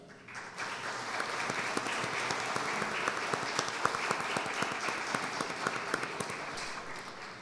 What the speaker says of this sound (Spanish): a este gran servidor le demos un aplauso